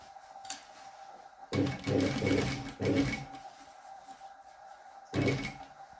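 A sewing machine stitches a curved quarter-round jeans pocket in short bursts, a rapid mechanical rattle starting and stopping several times with quiet gaps between runs.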